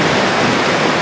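Heavy rain pouring down outside a restaurant, a dense loud hiss filling the brief moment, steady and close with no pauses.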